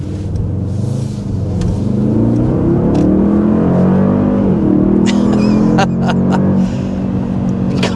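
A 2024 Mercedes-AMG GLS 63 SUV's V8 engine pulls hard under acceleration in comfort mode, a loud, steady rising drone heard from inside the cabin.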